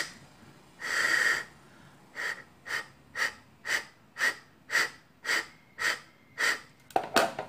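Someone blows repeated short puffs of air into a car's MAF air mass sensor, close up: one long breath followed by about ten evenly spaced bursts, then a clatter at the end.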